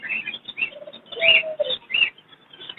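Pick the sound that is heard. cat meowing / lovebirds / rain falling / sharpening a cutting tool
lovebirds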